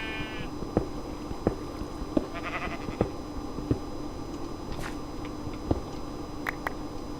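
A sheep on a farm gives short bleats amid rhythmic chewing or clicking sounds and a steady background hum, with several sharp taps spaced through the scene.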